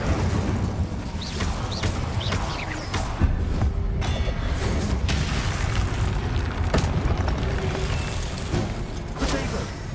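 Spell explosions burst in Hogwarts Legacy combat, with fire and blast spells going off. The booms and crackles come in dense succession, a constant loud clatter of impacts with no pause.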